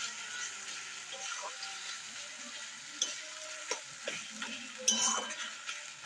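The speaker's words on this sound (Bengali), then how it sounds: "একটু হালকা করে নেড়ে নিচ্ছি, নয়তো কড়াইয়ের তলায় লেগে যাবে" Chicken fries quietly in a kadai while a spoon stirs it, soft sizzling broken by a few light scraping clinks against the pan.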